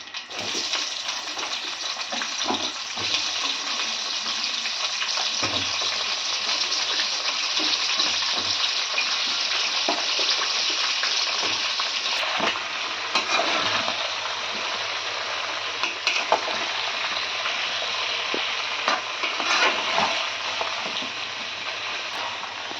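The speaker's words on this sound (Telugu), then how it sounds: "దీనిలోకి నూనె పెట్టి నూనె మరిగిన తర్వాత ఆవాలు మెంతులు వేసాను, వెల్లుల్లిపాయలు, తర్వాత మామిడికాయ ముక్కలు" Mango pieces frying in hot oil with mustard seeds, fenugreek and garlic give a steady, dense sizzle that carries on without a break, close by, with no voices.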